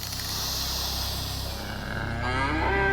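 A cow on a farm moos, a long loud low call with rising harmonic bands near the end, heard close and alone over steady background noise.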